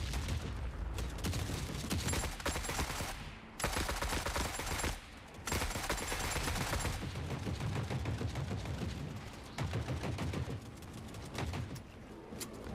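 Enemy grenade launcher fire in the Forever Winter shooter game: a loud, near-constant barrage of blasts and rattling gunfire with brief lulls between bursts, continuing throughout without voices.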